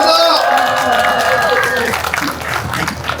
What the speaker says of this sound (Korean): 다시 한번 힘찬 마무리 발언해 주신 우리 정성희님께 뜨거운 박수 보내주시면 감사하겠습니다